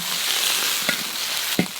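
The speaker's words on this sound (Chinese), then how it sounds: "锅里加油，油呢稍热，把鸡爪炒一下" Chicken feet stir-frying in hot oil in a wok, a loud, dense close-up sizzle with a couple of short scraping stirs near the end.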